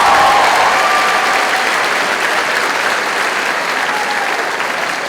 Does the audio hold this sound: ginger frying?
no